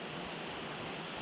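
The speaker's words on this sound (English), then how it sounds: "the river flowing in the background." A river flowing near a campsite at Nairn Falls Provincial Park, a steady broadband rush of water heard alone with no breaks or voices.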